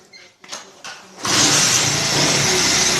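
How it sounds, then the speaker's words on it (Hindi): A Honda 70 motorcycle, started by bypassing the ignition key, rumbles into life after a few brief cranking attempts and then idles loud and close. "ये देखिए आपकी बाइक अब स्टार्ट हो गई"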